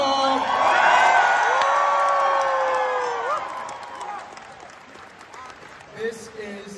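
A convention crowd at a furry dance competition cheers, whoops and whistles for the dancers in a loud sustained burst that fades after a few seconds, with a brief shout near the end.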